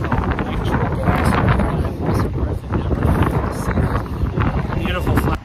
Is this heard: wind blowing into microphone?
yes